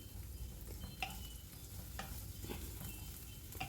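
Chopped onion frying lightly in hot oil, a soft, even sizzle with occasional spoon taps and stirring scrapes, quiet and close, nobody speaking.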